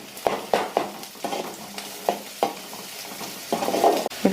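Finely chopped carrots and beans being stir-fried in a pan for masala uttapam, with repeated scraping stirs and bursts of sizzling in an uneven rhythm, close and fairly loud, with no voices.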